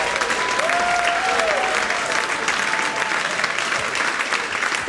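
A stand-up comedy audience applauds loudly and steadily for about five seconds, dense clapping with a few faint whoops rising over it.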